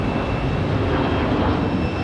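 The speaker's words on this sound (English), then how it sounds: "737-700 rolling for United." A United Boeing 737-700 rolls for takeoff at Raleigh-Durham International Airport, its jet engines a loud, steady broadband roar with a faint high whine, heard from nearby without any talking.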